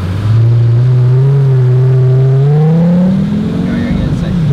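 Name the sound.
engine revving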